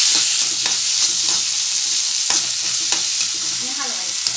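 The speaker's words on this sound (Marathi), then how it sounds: "आणि हलवायचं" Chilli potatoes stirred with Schezwan chutney and salt in a hot pan: a steady, close sizzle with repeated spatula scrapes and clicks against the pan, no voices.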